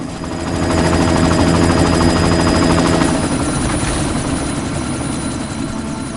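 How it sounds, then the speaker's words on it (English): A helicopter in Deus Ex: Mankind Divided thunders overhead, loud and close, with dense rotor chop and engine roar that builds quickly and then holds steady. "You've got to stop that chopper."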